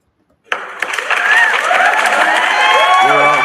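A crowd bursts into applause and cheering after a quiet start, the clapping and shouts quickly swelling and holding loud, with whoops and voices rising above the din toward the end.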